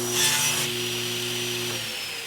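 A saw cuts off excess wood from a box joint drawer handle, a brief steady rasping cut near the mic that fades out after about two seconds.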